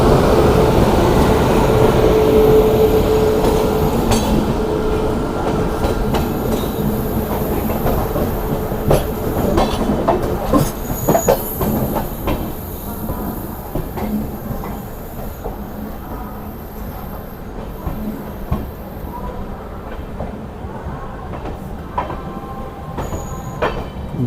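Dehradun Amritsar Express running with new LHB coaches, a loud continuous rumble with rhythmic clickety-clack of wheels over rail joints and occasional squeal, heard close from on board.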